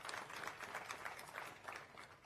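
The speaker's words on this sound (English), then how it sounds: "Another round of applause for the Chancellor." Audience at a Makerere University graduation ceremony applauds the Chancellor with faint, steady, distant clapping spread evenly throughout.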